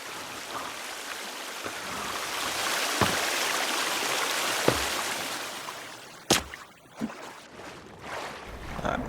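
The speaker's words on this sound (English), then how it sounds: "I'll be able to rinse the blood off me here" Splashing and rushing water as a character rinses blood off in The Forest survival game, a steady watery wash with several sharp splashes and knocks toward the end.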